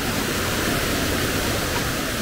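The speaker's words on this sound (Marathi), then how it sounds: "पाण्याचा प्रवाह खूप फास्ट आहे" A fast-flowing stream on the trail to Kelavali waterfall in Satara rushes in a loud, unbroken roar, near and constant with no other sounds.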